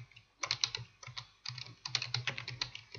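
Bursts of typing on a computer keyboard, entering a search into the Chrome web browser, with quick clustered key clicks separated by short pauses, close and clear with no talking.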